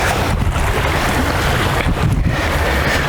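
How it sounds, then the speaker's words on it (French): Outdoors, a cool breeze blows steadily into the microphone, producing constant loud rumbling wind noise with no voices. "ce petit vent frais là, c'est parfait"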